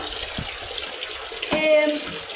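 Cool water runs from a fountain in a countryside park, a steady close trickle and splash that holds level throughout with a brief soft bump partway through.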